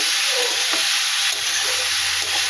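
Vegetables and green chillies fry in a pan for a fish curry with cauliflower and potato, giving a steady, close, bright sizzle with faint stirring scrapes and no voices.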